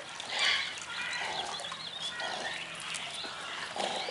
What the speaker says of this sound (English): You can see, even the parrots are loud right now.